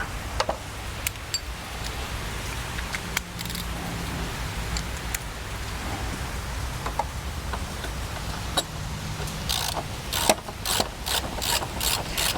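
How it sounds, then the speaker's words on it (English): A hand ratchet clicks while tightening a radiator bracket bolt on a Honda Accord, with short bursts of rapid pawl ticks and quicker runs near the end over a steady background hiss. "Recommend holding the bracket down so that it doesn't spin when you try to tighten it up"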